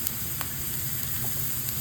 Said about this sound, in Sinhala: ලුණු ටිකයි සුදු ලුණු ටිකයි හොඳට රන්වන් පාට වෙනකම් ටෙම්පරාදු කරගන්න.